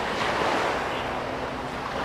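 Sea waves wash up on Jomtien beach in a steady broadband roar of surf, with wind buffeting the microphone and no voices.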